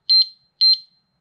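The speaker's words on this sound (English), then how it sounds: "that little beep is telling you that it's armed and ready to go" A motorcycle disk brake lock alarm (Tchipie) arming, two short high double beeps, loud and close, separated by a brief pause.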